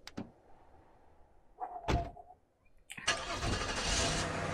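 An unidentified car's engine cranks and starts up close, following a couple of thunks like a door shutting, then settles into a loud steady running roar.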